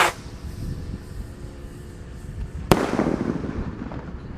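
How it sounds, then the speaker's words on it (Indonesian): Gold Dragon Rocket Roman candle fireworks launched from a hole in the ground: a steady crackling, fizzing hiss runs throughout, then a sharp loud pop near the end gives way to a brighter, denser burst of crackling. "Roket Roman candle terbesar siap meluncur."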